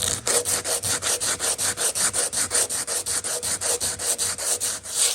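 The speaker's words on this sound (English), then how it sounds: "we have to sand off all of those bits, and we have to do the whole bonnet now." Hand sanding of a fiberglass monster truck bonnet: quick, even back-and-forth rasping strokes, around four per second, close and steady with no talking.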